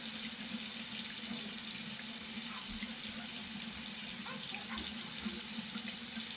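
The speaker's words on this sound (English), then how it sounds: "run it under cold water" Water runs steadily from a tap into a sink, wetting a rag under a cold stream during a morning face routine; a continuous, close splashing flow with no talk.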